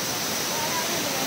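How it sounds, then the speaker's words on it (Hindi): Waterfall in the upper Neelum valley, a loud, continuous broadband roar of rushing water filling the whole moment with no pauses, close to the listener. "ये अभी आया है पहला झरना हमारा, है ना?"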